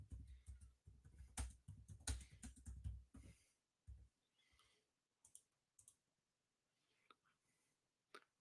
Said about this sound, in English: I'm typing to someone, a friend.